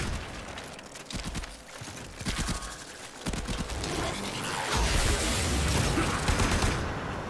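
Gunfire in a video game, with clusters of sharp shots and mechanical clicks early on, building into a denser, louder barrage of blasts and booms toward the end.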